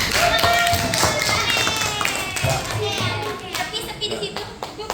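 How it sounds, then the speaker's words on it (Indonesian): A class of tenth-grade students claps during a classroom presentation, a busy mix of hand claps and children's voices, loud at first and then thinning out. "Oke, tepuk tangan dulu."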